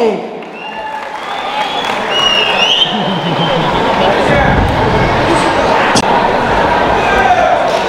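A crowd at a birthday celebration event in Davanagere breaks into loud, sustained applause and cheering for choreographer Murali Master on stage, the clapping swelling quickly and staying dense until the end.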